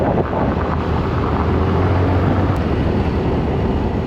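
Loud, constant wind roar buffets the microphone during a long-distance motorbike ride on a road between Pune and the Konkan coast, with a low engine drone buried underneath.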